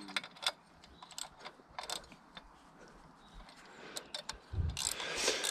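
Bolts on a BMW E34 Alpina B10 3.5 water pump are tightened with a ratchet, giving faint, irregular clicking and metallic ticks at close range, with a louder clatter near the end.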